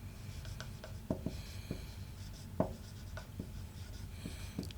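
Chalk or marker scratches across a board while a geometry proof about a quadrilateral is written out, with steady rhythmic strokes and sharp taps close by and no talking.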